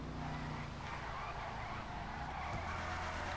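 A Bravado Hellfire in GTA 5 drifts with a steady engine drone and drawn-out tire squeal, continuous and moderately loud with no breaks.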